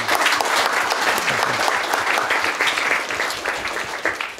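Warm applause from an audience at a Swedish seminar on space strategy for military capability and civilian benefit: dense, steady clapping from many hands that fills the room and fades slightly toward the end.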